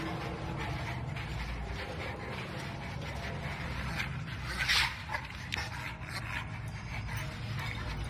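Dog in the Mad Max video game, soft panting, whimpering and rustling close by over a low background rumble, with a brief louder yelp or bark near the middle.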